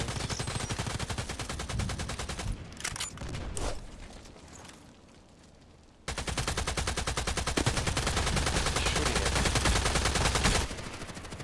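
Rapid automatic rifle fire from an M4A1 Custom rifle in the online shooter game Contract Wars, loud sustained bursts with a short quieter gap midway before firing resumes continuously.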